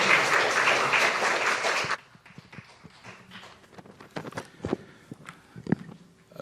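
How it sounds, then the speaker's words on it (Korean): A church congregation applauds to welcome a newly ordained pastor at a memorial worship service: a loud, dense burst of clapping lasts about two seconds, then cuts off, leaving quieter room sounds. "박수로 한번 환영해 주세요."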